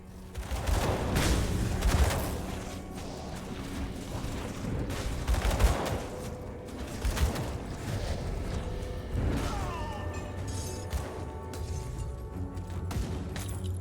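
Rapid bursts of ranged-weapon fire from a boss in the Grim Dawn video game, Tyrant's Hold, crackling and booming in loud repeated volleys with mechanical clatter between shots.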